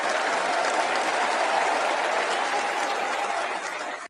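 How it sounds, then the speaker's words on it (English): A congregation applauds a newly installed Anglican archbishop, the first woman in the role, with steady, dense clapping filling the church for about four seconds before it cuts off. "So they're all applauding."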